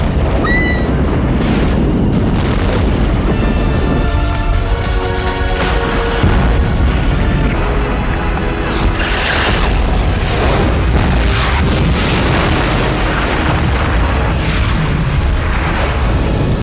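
A heavy film explosion from Deep Blue Sea booms loudly and rolls on for many seconds, with crashing water and debris rumbling beneath and no speech over it.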